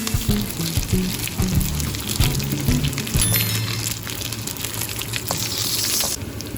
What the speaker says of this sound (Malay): Mula-mula kita goreng ikan bilis yang telah siap kita cuci sehingga garing.